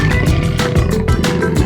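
A tiger roars and growls in loud, close, rough bursts repeating in a pulsing rhythm, with no talk.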